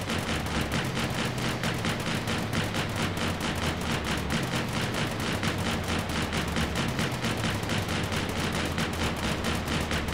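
An armored gun vehicle firing steadily in the Scraps video game: a relentless, loud stream of rapid shots with no pause, backed by a low rumbling drone.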